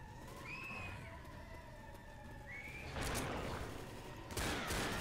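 Gunfire at the Witch in Left 4 Dead comes as two loud noisy blasts late on, preceded by whistling, wailing tones over a steady background.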